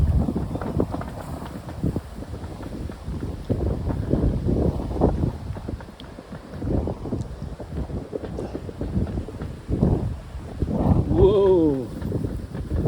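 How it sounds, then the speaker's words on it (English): Cold, gusty northeast wind roars and buffets the microphone continuously, with people talking intermittently over the rushing noise. "Cold wind blowing from the northeast."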